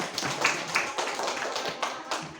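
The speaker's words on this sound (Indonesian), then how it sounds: "Kita kasih tepuk tangan dulu buat." A small group claps hands for a participant at a learning session, a short scatter of light, uneven claps at close range.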